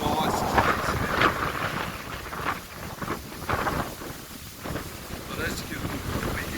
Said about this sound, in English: as you can probably hear in the field, it's very windy